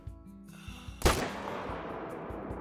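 A single loud M1 Garand rifle shot cracks out at a distant bull in the hunting game Call of the Wild, its sharp report trailing into a long rolling echo over a low steady background hum.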